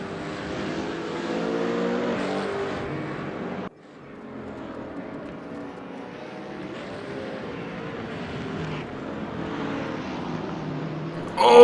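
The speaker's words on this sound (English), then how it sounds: "Alex Hayes is all over the back of Quintus Gillespie in the Spalding RT car" Race cars at the Mid-Ohio circuit in a racing video game, one car close behind another, give a steady engine drone that dips sharply around four seconds, then builds back to a loud swell at the end.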